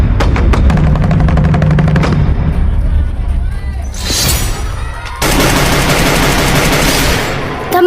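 Loud gunfire from a shooting video game: rapid machine-gun bursts, then a pause with a softer rushing blast, then another long sustained volley of shots.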